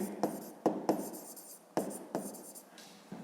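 Pen strokes scratch across paper as a fifth-grade maths solution is written out by hand, a few short, close scraping bursts with small gaps between them.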